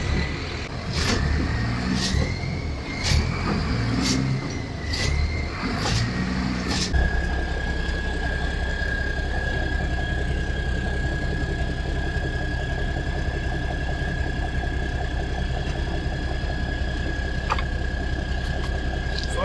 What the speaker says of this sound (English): tires spinning.